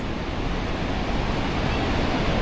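Pacific Ocean surf on the Oregon coast washes in a broad, steady roar, with gusty wind buffeting nearby and no voices.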